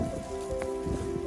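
Steady rain on a cold day along the Appalachian Trail near a dam out of Hot Springs, a continuous close patter of drops on surfaces with no voices, lasting only a brief moment.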